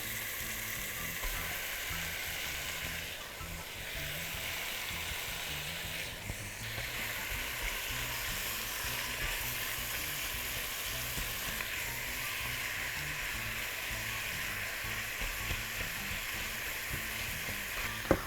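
Meat fries in a pan for bulgur pilaf with a continuous, even sizzle and crackle that lasts unbroken at moderate loudness, and no voices are heard.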